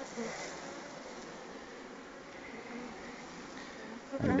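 A dense, steady buzz of many honey bees hums close by, fairly soft, with a brief clatter near the end.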